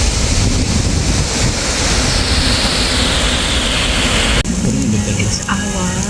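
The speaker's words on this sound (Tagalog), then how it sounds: "Ganda ng waterfalls." Waterfall at Pokpo Cafe in Korea, a loud steady rush of falling water heard up close, with wind buffeting the microphone and a brief shift in tone near the end.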